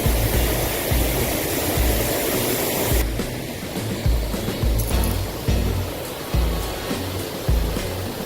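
The White Oak Canyon waterfall in Shenandoah National Park roars as a loud, continuous rush of falling water close by, with a few low thuds and bumps mixed in.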